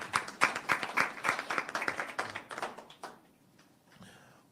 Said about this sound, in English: Now, yes, you can clap.